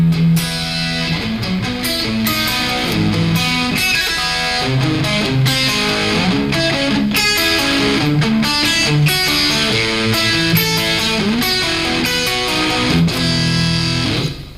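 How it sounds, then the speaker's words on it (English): Guitar playing a song in E, originally written on piano, with chords over shifting bass notes; a steady, full strummed and picked texture continues alone for the whole stretch before stopping abruptly at the end. "And this next song I actually wrote on piano, but ended up having to play it on guitar."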